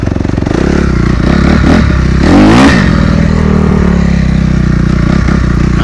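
A 2016 Honda CRF250R dirt bike is ridden hard across a rough field, its engine loud and close, buzzing steadily and revving up once near the middle amid some clatter.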